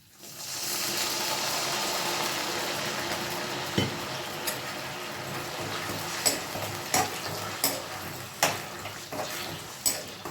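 Jaggery syrup for a traditional Palakkad manoharam sweet cooks in a pan with a soft, steady bubbling, broken by a series of sharp spoon scrapes and clinks against the metal as it is stirred.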